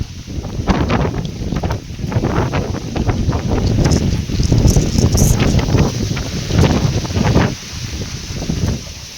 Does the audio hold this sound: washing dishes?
no